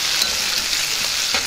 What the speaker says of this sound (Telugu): ఒకసారి బాగా కలుపుకుందాం.